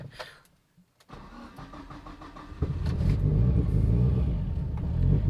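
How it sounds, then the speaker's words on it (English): A Mitsubishi Evo 9 engine, running on a base map, cranks briefly and then fires up, settling into a loud, steady, rough idle that fills the rest of the clip. "it fired up, and it runs on a base map"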